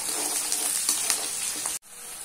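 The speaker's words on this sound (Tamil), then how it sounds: "வெங்காயம் பச்சை மிளகாய் நல்லா வதக்கட்டும்." Onions and green chilies sauté in a pan for a South Indian festival dish, giving a bright, continuous sizzle with light stirring scrapes. A brief dropout comes near the end, then the sizzle returns.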